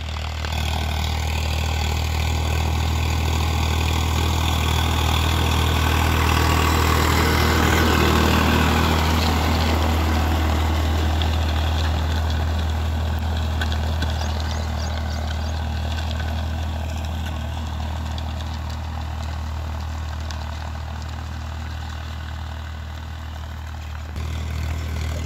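A Farmtrac 50 tractor engine drones steadily on a farm field as it approaches, swelling slightly in the middle and then easing off, with no voices.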